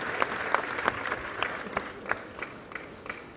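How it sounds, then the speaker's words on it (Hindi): An audience at a motivational talk in Talkatora Stadium gives a short burst of applause, a steady patter of hand claps with sharp accents, loud and close over the crowded hall. "एक बार ताली बजाना।"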